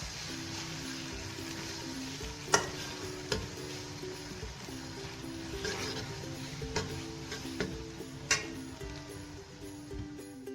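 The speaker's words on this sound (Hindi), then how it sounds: "अब इसमें मैंने ये अदरक लहसुन का पेस्ट डाल दिया। इसको थोड़ा सा भूनूंगी," Ginger garlic paste fries in a pan for a poppy seed curry, a soft sizzle and quiet crackling hiss punctuated by occasional sharp taps and clicks, with a low hum underneath.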